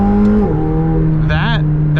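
A 2021 McLaren 720S engine revs hard at high rpm on a track, producing a loud, steady mechanical drone with rising harmonic sweeps as it accelerates, with a brief gap in the surge.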